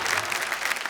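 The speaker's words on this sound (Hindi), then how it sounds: "आपने मेरे सम्मान में इतनी जोरदार ताली बजाई" An audience at a Hindi poetry and comedy stage show claps loudly, a dense continuous burst of applause heard alone.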